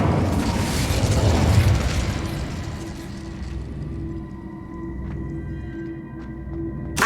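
Incendio fire spell blast in Hogwarts Legacy, a loud roaring fiery burst at the start that rumbles and slowly fades into a lingering crackle and hum, with a small pop at the end.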